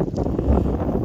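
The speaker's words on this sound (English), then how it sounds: "Yeah, it's a bit windy." Steady west-southwest wind buffeting the microphone on a fishing beach at Deal, a low rumbling roar that continues without a break across the whole moment.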